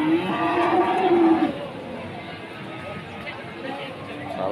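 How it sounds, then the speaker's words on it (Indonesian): Young beef cattle at a Javanese livestock market in Blora low loudly in a drawn-out call near the start, then the bustle of the crowded market continues underneath. "Salah satu sapi-sapi bakalan hari ini di pasar Pon Blora"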